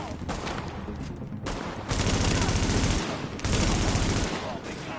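Sustained automatic gunfire from a firefight in the video game Tom Clancy's The Division, with rapid dense bursts that swell louder in two stretches, close and continuous, amid layered battle noise and a faint voice underneath.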